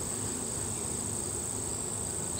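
Honey bees hum steadily around an open hive during an inspection, a dense continuous buzz with a thin high whine running throughout and no voices.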